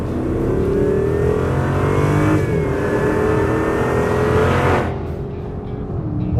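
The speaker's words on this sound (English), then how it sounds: "that is a good sounding engine" A heavy 4,500-pound Chrysler 300 revs hard as it accelerates, its engine note climbing loud and close, then easing off near the end with a quick shift and a dip in volume.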